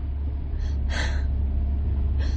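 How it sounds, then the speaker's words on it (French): A woman sniffles in a car in a 1975 French comedy film: a few short, wet nasal sniffs close by, one stronger in the middle, over a steady low engine rumble. "arrête de renifler."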